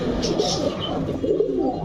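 Crested pigeon cooing steadily at close range among other pigeons, a soft low murmur filling the short stretch without pause.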